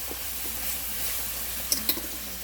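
Ground turkey frying in olive oil in a skillet and being stirred, a steady loud sizzling hiss with a couple of brief spatula scrapes near the end, close up and without speech.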